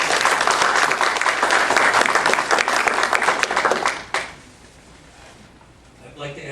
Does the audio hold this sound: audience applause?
yes